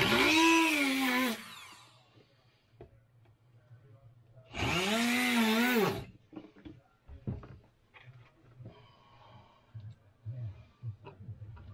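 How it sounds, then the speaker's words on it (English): A power drill drives a couple of extra screws, with two loud whirring bursts that rise and fall in pitch, separated by quieter clicks and handling noises. "Might just put a couple of extra screws in to lock these guys into place."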